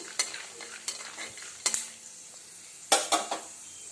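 Peanuts being roasted in a pan for upma, stirred with a metal spoon: several loud scraping clanks against the pan at uneven intervals over a soft background sizzle, close up, with no voices.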